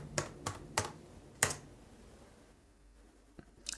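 Password being typed on a computer keyboard: a handful of distinct, close key clicks at an uneven pace, then a quiet gap and a few fainter final taps.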